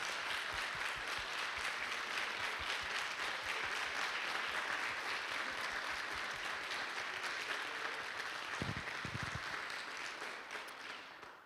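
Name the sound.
audience round of applause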